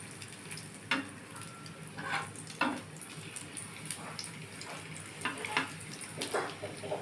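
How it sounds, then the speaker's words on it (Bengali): A veg masala papad roll being flipped and fried in a pan, a soft, crackly sizzle with scattered light pops and scrapes, quiet and close. "এই পাঁপড় রোলটা আমি এবার উল্টাচ্ছি"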